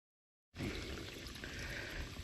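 Water gushes out through a hole knocked in the overflow structure of a six-acre pond, starting abruptly after a moment of silence and then running as a steady, close, full-bodied pour.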